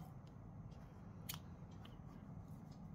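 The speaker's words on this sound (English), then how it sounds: "And now we can cut this piece of yarn." Scissors snip through a piece of yarn while crocheting a sweater vest, a few faint, quick cuts spread over a few seconds against a quiet room.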